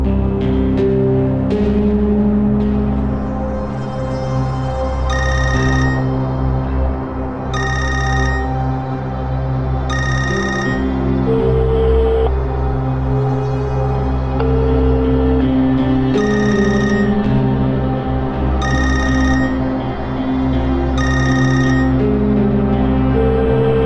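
Telephone ringing unanswered, a repeating electronic ring in regular bursts every few seconds over a loud, steady background hum, with no one speaking.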